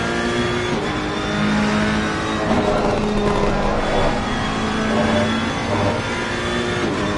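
A Ferrari race car engine drones steadily on a Laguna Seca lap in a PS4 racing game, loud and continuous with rising and falling revs through the corners.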